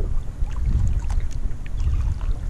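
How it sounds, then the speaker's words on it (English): Paddle strokes move a small boat out through water while fishing on a creek, with low wind rumble and occasional light splashes and knocks against the hull, close and steady with no talking. "I need to paddle out of here"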